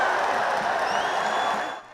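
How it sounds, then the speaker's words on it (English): Michigan State Spartan basketball fans cheer in an arena, a broad, roaring crowd din that holds steady before fading quickly near the end. "As Spartan fans cheer for their basketball team, energy fills the arena"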